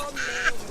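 A chicken clucking in a film scene, two short nasal clucks close by, the second briefer than the first.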